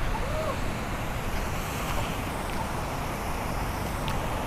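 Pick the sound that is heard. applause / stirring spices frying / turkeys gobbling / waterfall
waterfall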